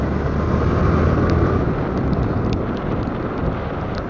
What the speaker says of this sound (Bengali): এখন মাইশছড়ি রাস্তায় বৃষ্টি প্রচুর পরিমাণে বৃষ্টি পড়ছে